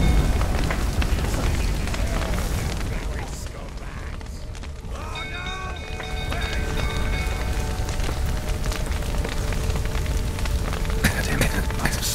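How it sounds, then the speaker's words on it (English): Steady rain falls in the video game The Witcher 3: Wild Hunt, a dense continuous patter across the whole stretch, with game music tones and faint voices mixed in. "Looks like rain."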